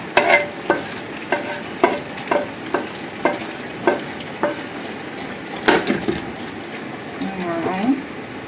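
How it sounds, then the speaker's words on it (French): Cooked mushrooms go into a simmering dish of pork paupiettes with vegetables, white wine and cream, bringing a run of sharp, rhythmic spoon scrapes and knocks against the pot over a low bubbling sizzle, up close. "Je vais les mettre dans mon plat qui mijote."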